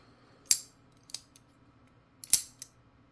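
A folding knife, a Trivisa, snaps open with sharp metallic clicks: two crisp pairs of ticks about two seconds apart, close and clear against a quiet background, no voices.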